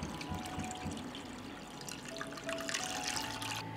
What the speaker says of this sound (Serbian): Sipat ću vodu u šerpu do visine poklopca.